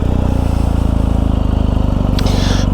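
A BMW R1250GS Adventure motorcycle idles close by with a steady, even engine thrum, then pulls off for a ride, with a brief higher mechanical rasp near the end.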